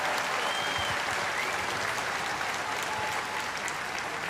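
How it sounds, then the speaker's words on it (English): A large crowd at a national day of reflection gives sustained, dense applause for a brave teenager, a continuous even roar of clapping with no break. "Another round of applause,"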